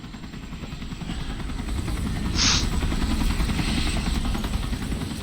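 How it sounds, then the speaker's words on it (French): Helicopter arriving in the video game Resident Evil 4: a steady low rotor and engine rumble fills the whole stretch, growing slightly louder toward the middle, with no talking. "L'hélico est là."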